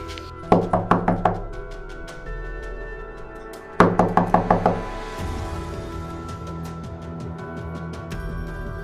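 Someone knocks on a door in two quick bursts of about five raps each, loud and close, separated by a pause, with muffled movement and room noise afterward.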